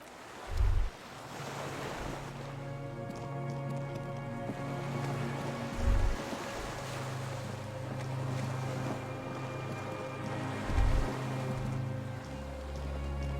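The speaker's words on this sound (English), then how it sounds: "The skiff is swaying on the waves by the dock." Waves lap against a dock while a moored skiff creaks and sways in Disco Elysium, a steady wash of water and wind with three heavy low thumps spread across the scene and a droning tonal hum beneath.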